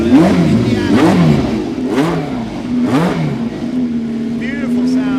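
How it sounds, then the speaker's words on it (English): A 1967 Lotus 49 with its 3-litre Cosworth engine revs repeatedly, sharp rising and falling blips over a steady idle, loud and close in an outdoor concours setting, with a voice talking over part of it. "Beautiful sound from the Cosworth engine."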